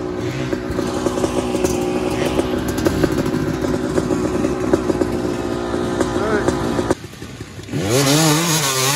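A two-stroke dirt bike rides an abandoned sand rut track, its engine buzzing loud and steady with a constant high drone. Near the end it drops off, then revs up again with rising and falling pitch.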